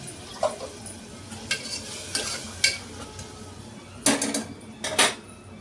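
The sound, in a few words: ginger, garlic and coriander paste added to pan, sizzling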